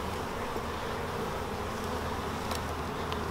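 Honey bees buzz in a dense, steady drone around the hive, a continuous close swarm hum with no voices.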